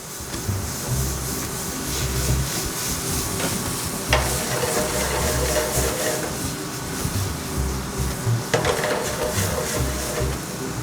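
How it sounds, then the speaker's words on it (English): Red wine goes into a hot pan and sizzles. The loud, close hiss and crackle carries on steadily throughout with no talking. "Once my pan gets nice and hot, I like to add in a little bit of red wine."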